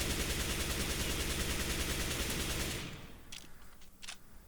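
Rapid automatic gunfire from a rifle sprayed while running in the video game CS:GO, a dense, loud, continuous burst lasting nearly three seconds, then cutting off to a few faint clicks and light clatter.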